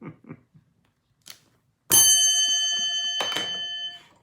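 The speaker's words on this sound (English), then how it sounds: "Here's the bell." A bell rings out to open a live online class, struck once loudly with a long bright metallic ring that decays over about two seconds, preceded by faint scattered room noises and followed by a second strike.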